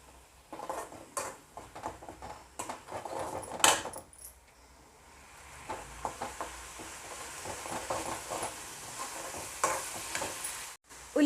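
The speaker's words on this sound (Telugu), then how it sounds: "పచ్చివాసన పోయేంత వరకు వేయించుకోండి" Onion paste with ginger-garlic paste fries in a pan, heard as a softer, uneven sizzle mixed with repeated clinks and scrapes of stirring, close by and fairly quiet, with no one speaking.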